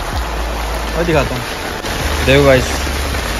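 Steady heavy rain hisses throughout, with someone talking briefly over the downpour.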